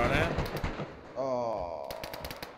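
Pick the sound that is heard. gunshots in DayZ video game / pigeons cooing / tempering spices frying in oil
gunshots in DayZ video game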